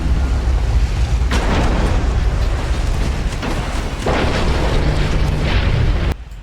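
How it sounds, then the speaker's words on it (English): Large naval shells bursting in an Ultimate Admiral Dreadnoughts sea battle, a continuous roar of overlapping booms and explosions with surges near 1.3, 3.5 and 4 seconds, loud throughout and then cutting off sharply near the end. "these large shells are hitting. If they can get them on target, then it's fireworks"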